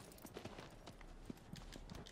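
Horse hooves clip-clop at a steady walking pace in Shadow of the Colossus, quiet and close over a faint background hiss, with no speech.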